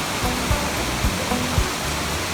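Water from Bridal Veil Falls near Hope, British Columbia, spills down and trickles over small tree roots, a close, steady rushing hiss with no let-up and a few faint low thumps.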